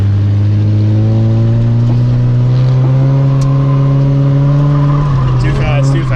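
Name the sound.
car engine revving during drift clutch kick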